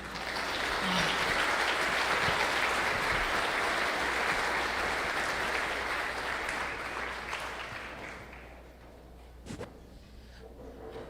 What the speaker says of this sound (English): Let's give a round of applause for Nick